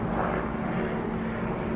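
A helicopter passes overhead outdoors beside a compost heap, a steady low engine drone with a rotor hum that fills the whole stretch at an even, moderate level, without speech.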